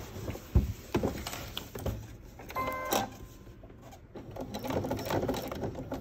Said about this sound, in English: you just kind of have to manhandle your fabric through your machine, through the neck part of your machine,